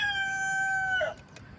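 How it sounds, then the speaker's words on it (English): A rooster crows once on a family farm, a long drawn-out call that rises and then breaks off, close and fairly loud over quiet outdoor background. "And Athena is fascinated by the rooster."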